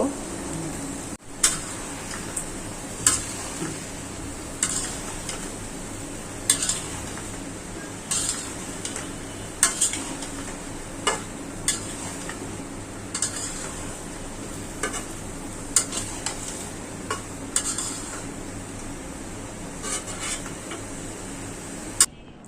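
Spice paste frying and being stirred in a pan with vegetables including sweet potato and pointed gourd, a steady sizzle broken by repeated clinks and scrapes of a utensil against the pan, close by, with no talk.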